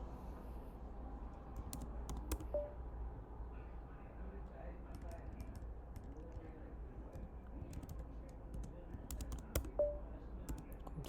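Computer keyboard keys clatter in quick, irregular bursts of clicks as a command is typed to launch a mobile-robotics teleoperation task, heard close and fairly quiet over a low hum, with a voice faintly underneath.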